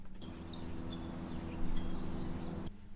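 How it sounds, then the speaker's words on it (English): Birds sing in an outdoor ambience recording, with several quick chirping phrases over a steady low background hum that cuts off near the end. "I've found a little section in my ambience, here it is, just here, which is a bit of bird song"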